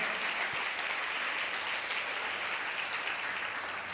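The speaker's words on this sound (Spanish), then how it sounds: "déle ese aplauso al Señor" Steady applause from a church congregation during a sermon, a dense wash of clapping held at an even level throughout, with no voices standing out.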